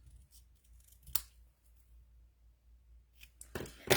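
Scissors trim a fussy-cut paper piece with a couple of sharp close snips, one early and a cluster near the end, separated by near silence.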